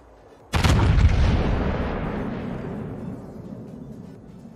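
A heavy artillery barrage lands in a World War II tank game on the St. Vincent map, one sudden loud blast at once followed by a long, rumbling roar of impacts and debris that slowly fades.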